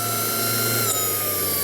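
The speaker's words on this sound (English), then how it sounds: "The starter motor, you can hear it there." Starter motor of a Kingtech 100 G2 jet turbine spinning during its cooling cycle, a steady high-pitched whirring whine with a faint hum underneath, close and constant throughout.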